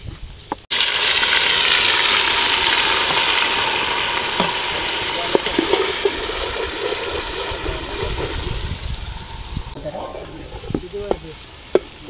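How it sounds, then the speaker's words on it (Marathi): Curry leaves and a home-ground black masala paste drop into hot oil for a crab dish, erupting into loud, sustained sizzling that slowly settles, with a few sharp crackles and pops toward the end. "तेल तापलंय आता आपलं. तर तेलात आपण कढीपत्ता सोडूया."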